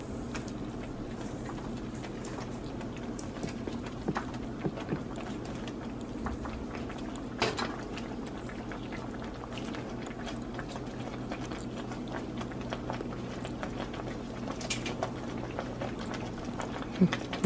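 Salsa with chilaquiles simmering in a pan gives off a steady, low bubbling with scattered soft pops and crackles, close and continuous.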